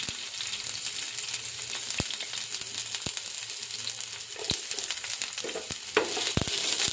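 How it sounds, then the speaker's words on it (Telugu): Chopped onions and mustard seeds frying in about two spoons of oil, an even sizzling hiss punctuated by sharp pops and crackles from the seeds and occasional stirring clicks, close and steady with no speech. "తర్వాత కట్ చేసి పెట్టుకున్న ఆనియన్స్ అయితే వేసుకుందాం"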